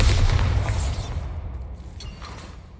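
A Bombarda spell explosion in a magic-themed video game, a deep booming blast that starts loud and rolls away into a fading rumble and debris hiss over a few seconds.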